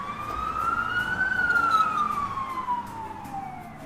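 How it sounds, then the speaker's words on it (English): Emergency vehicle siren passing outside, heard through an open window: a single long wail that rises and then slowly falls, moderately loud over a low traffic rumble, with no one speaking. "There's a siren coming, guys, I can hear it."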